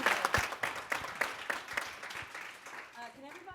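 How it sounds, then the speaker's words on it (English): A conference audience claps in a brisk, fairly close burst that thins out and fades, and a voice speaks briefly as it ends. "Can we just clap?"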